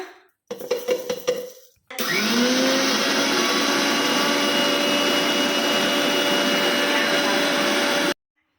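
Electric mixer grinder pulverising sugar and cardamom, a loud steady motor whine with a rising start that runs for about six seconds before stopping abruptly, preceded by brief rattling as the spices are loaded.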